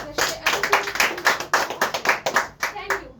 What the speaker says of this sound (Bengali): আমাদের বাংলাদেশের টপ যে লিডার আমাদের আতিক স্যার, তার জন্য একটা করতালি হয়ে যাক